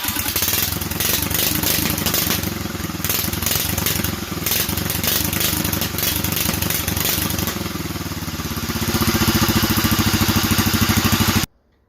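A DuroMax 440cc generator engine, fitted with an upgraded carburetor jet, runs steadily and loudly at full throttle, giving a dense mechanical roar that holds for about eleven seconds before cutting off abruptly.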